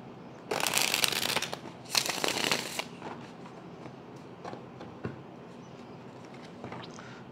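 Tarot cards are shuffled in two quick, close bursts of rapid flicking and riffling, followed by quieter handling and light tapping of the deck.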